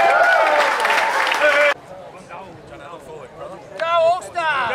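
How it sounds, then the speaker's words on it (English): Crowd applause for two football teams at an Australian rules match event in Vietnam, a loud burst of clapping that cuts off abruptly, followed by scattered voices and chatter. "can we please have a great round of applause for both teams?"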